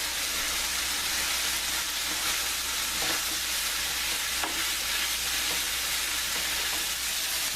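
Turkey pepperoni fries in a pan with a steady, dense sizzle that holds at an even loudness throughout, with a few faint clicks and shifts as the slices are moved around.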